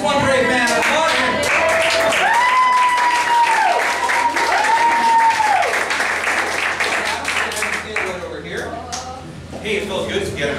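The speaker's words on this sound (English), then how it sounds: "it felt good to get an applause like that" Applause from a comedy-show audience for a brave volunteer, dense clapping filling the room from nearby with a few cheers, while a sustained whistle-like tone rises and falls and voices mix in before the applause thins out.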